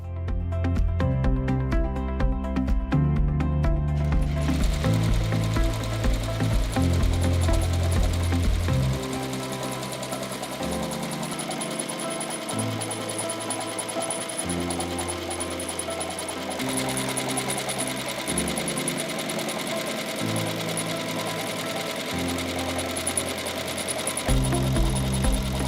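A ZSK embroidery machine stitches a textured slipper held in a pocket frame, running with a steady, loud mechanical rhythm of needle strokes that changes pace in sections and continues throughout with no voices.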